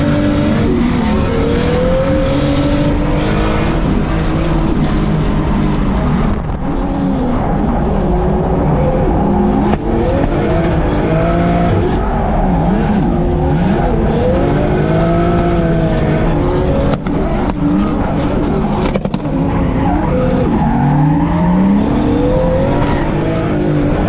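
Drift car on a track, engine loud and close, revving and swinging in pitch as the tires squeal through long slides, with repeated throttle blips and shifting squeals across the run.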